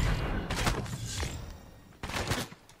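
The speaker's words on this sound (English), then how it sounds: "Oh, someone else is shooting me." Rapid gunfire from a mobile shooter video game played on an iPhone, bursts of shots in two clusters with a busy, dense game soundscape underneath.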